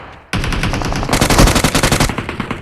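Automatic gunfire in the battle royale game PUBG Mobile bursts in loud and close as a rapid continuous rattle, turning into a distinct rhythmic string of sharp shots in the second half.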